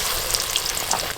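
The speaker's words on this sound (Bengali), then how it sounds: "ওই মাছ ভাজার তেলে আমি কালো জিরে ফোড়ন দেব। কালো জিরে, চেরা কাঁচা লঙ্কাও দেব।" Nigella seeds and slit green chillies tempered in hot mustard-fish frying oil, a loud close crackling sizzle with bright spitting pops, no voices.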